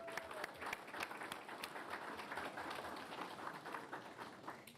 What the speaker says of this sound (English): let's give one more round of applause to our Employees of the Year